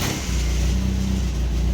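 A 1984 Toyota Tercel SR5 with a repaired exhaust revs briefly while sitting on ramps, a close, steady engine drone rising in pitch over under two seconds.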